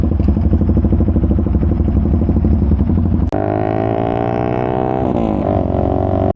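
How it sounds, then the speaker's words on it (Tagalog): A loud Triumph Speed 400 motorcycle engine runs close by on a rough road ride, a dense rapid throb that shifts abruptly into a smoother rising rev tone with revving swells, no talking. "Sama na ulit natin tong Triumph na maingay."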